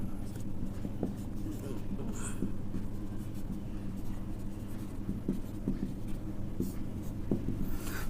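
Pen scratching out a math proof, faint steady strokes with small taps, close, heard under a low hum with no talk over it.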